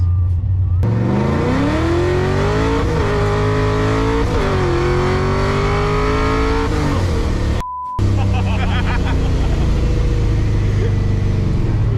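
A Chevrolet Camaro accelerates hard, its engine note climbing in pitch through a long loud pull with a brief gap for a shift, then roaring on; people speak faintly over the engine.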